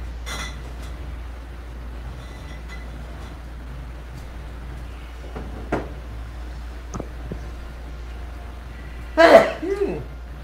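A single sharp sneeze bursts out near the end, close and loud, after quieter throat noises and small clinks during a board-game session indoors.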